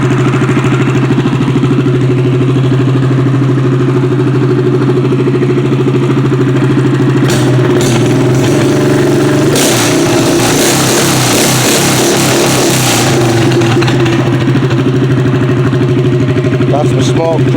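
An engine without a muffler runs with a loud, steady idle and a rough bark, briefly revving midway before settling back, recorded close up with no talk over it.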